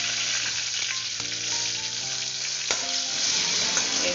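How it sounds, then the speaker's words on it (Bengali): Bay leaf and cumin seeds frying in hot oil in a pan, giving a steady close sizzle with faint stirring scrapes throughout, over soft background music. "এরপর দিয়ে দিলাম তেজপাতা, অল্প দিয়ে দিলাম জিরে ফোড়ন"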